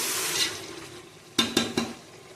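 Ginger garlic paste and chicken frying for biryani in a pan, a steady close sizzle with a few sharp stirring scrapes and clanks near the end.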